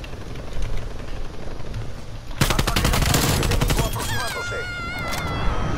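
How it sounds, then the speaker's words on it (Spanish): Call of Duty Cold War firefight: after a quieter stretch of distant shots, loud rapid bursts of automatic gunfire erupt, with a helicopter and whistling effects layered beneath. "¡Mira, hay un helicóptero, boludo!"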